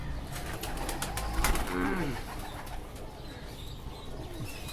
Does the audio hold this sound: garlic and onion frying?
no